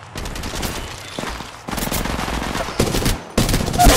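Gunfire in the mobile battle royale Apex Legends Mobile, with bursts of rapid automatic shots in several loud clusters separated by brief pauses, close and dense, no speech.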